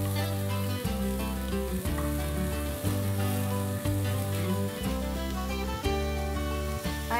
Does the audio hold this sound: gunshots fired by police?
no